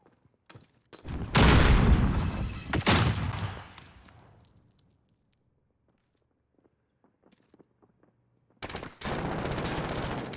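Loud bursts of automatic gunfire from the video game Call of Duty Cold War, with a heavy sustained volley, a quiet stretch of faint footsteps, then another close burst of firing.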